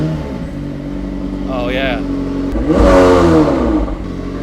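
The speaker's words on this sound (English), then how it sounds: "Can we hear the engine?" A McLaren supercar engine fires up and swells into a loud, rising rev that settles back to a rumbling idle, with a short spoken remark over it.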